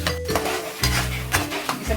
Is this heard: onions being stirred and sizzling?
yes